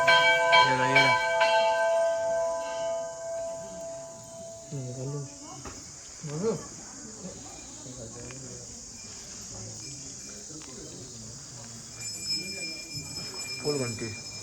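Temple bells ring at Ghantio wala mandir in Mukteshwar, Nainital, a few clear metallic strikes at the start, then faint chimes amid crickets and people talking nearby.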